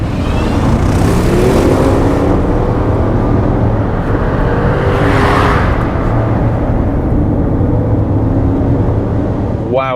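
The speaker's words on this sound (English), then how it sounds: "there's a 4-litre twin turbocharged V8 with about 450 horsepower, like the one I'm in today" Bentley Bentayga Azure, a 2023 SUV with a 4-litre twin-turbo V8, accelerates hard: a loud, sustained engine roar with rising harmonic tones over constant road rumble, heard from inside the cabin.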